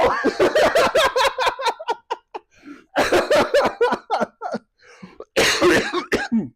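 Harsh, rapid coughing comes in three loud fits separated by short pauses, each burst a quick string of hacking coughs close to the listener.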